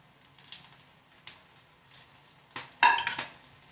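Curry leaves and chili dropped into hot oil in a pan while making paal kappa, with a soft background sizzle and a few stirring scrapes, then a louder crackling burst near the end.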